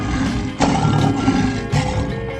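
A lion's roar in a 3D animal video game comes through as a rough, growling call with a couple of sharp surges, steady and close with no talking over it.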